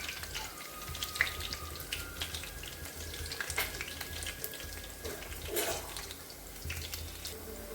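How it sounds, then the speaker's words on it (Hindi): Bari, puffed lentil dumplings, fry in hot oil while being turned until brown, giving a steady close crackle and sizzle with occasional stirring scrapes. "अब इसको उलट पुलट करते हुए हम ब्राउन होने तक के इसको फ्राई कर लेंगे।"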